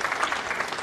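Snooker crowd applauding a difficult pot at the Champion of Champions, a brief, even burst of clapping from a sizeable audience.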